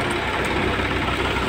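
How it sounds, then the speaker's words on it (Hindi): A tractor water tanker idles at a road construction site, its engine giving a steady, loud, low rumble throughout with no breaks or talk. "ट्रैक्टर वाटर टैंकर है"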